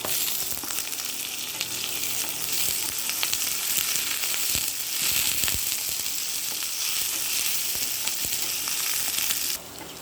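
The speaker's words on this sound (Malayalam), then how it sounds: "നന്നായിട്ട് വഴിക്കാം ഇഞ്ചി പച്ചമുളക് കറിവേപ്പില" Ginger, green chilli and curry leaves sauté in hot oil in a pan for a masala dosa filling, a loud, continuous close sizzle with small crackles throughout and no voices.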